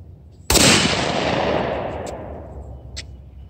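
A single loud, close blast from a Tristar Setter 20 gauge over-under shotgun fired at trap, its sharp report followed by a long rolling decay across the open range, with no talking.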